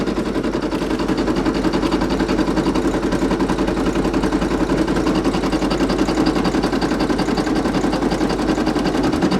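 A Brother PE800 embroidery machine stitches out a Ghostbusters patch, its needle drumming in a fast, steady mechanical rhythm close up, loud and continuous with no pauses or voices.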